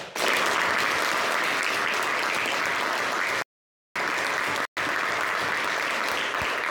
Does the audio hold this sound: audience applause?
yes